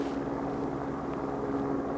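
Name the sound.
helicopter flying over mountains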